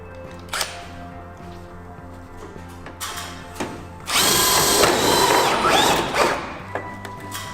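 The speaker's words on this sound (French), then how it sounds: "on va venir visser au raccord des deux, mais on va visser de manière à bien visser sur le haut du trapèze" Power screwdriver driving screws into the flat roof of a TousChalets garden shed during assembly, several short whirring bursts followed by a longer sustained drilling run close by, with clicks and handling knocks between.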